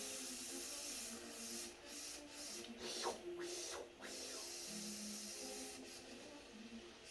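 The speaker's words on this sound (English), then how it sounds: "So I'm just going to let the steam come out." Steam being released from a pressure cooker after boiling eggs, a continuous airy hiss at low volume with a few brief clicks and scrapes over it.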